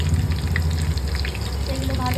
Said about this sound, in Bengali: এগুলো ভাজা হচ্ছে এখন